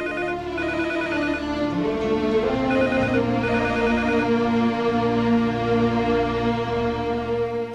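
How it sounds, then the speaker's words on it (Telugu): A telephone in a Telugu film scene rings on and on without being answered, a steady, repeating electronic ring with no voices. "రింగ్ అవుతుంది కానీ ఎవరు లిఫ్ట్ చేయడం లేదు."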